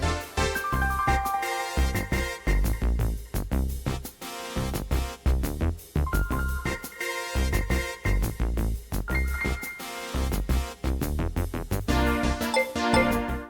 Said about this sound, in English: the main menu music sounds like this